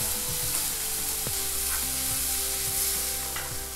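Onion and coconut sautéing in a pan, with a steady close sizzle and a few stirring scrapes over about four seconds.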